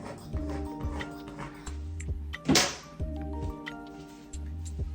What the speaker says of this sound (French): C'est mon peigne que vous avez entendu.